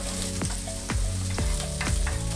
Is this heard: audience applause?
no